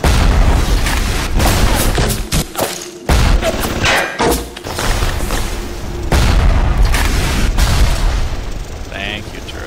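Rocket turret blasts in the video game Bioshock, a run of loud booming explosions and heavy thuds in irregular bursts, close and forceful, with someone talking in between.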